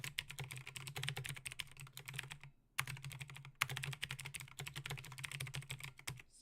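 Rapid, steady keystrokes on a computer keyboard, close and fairly quiet, with one brief pause partway through and no voices.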